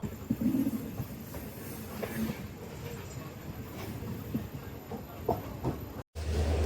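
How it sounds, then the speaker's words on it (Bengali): A train ride in a general compartment bound for Howrah, with a faint rolling rumble and soft rhythmic clatter under occasional voices, briefly cut near the end. "এই ট্রেনে করে এখন হাওড়া যাবো"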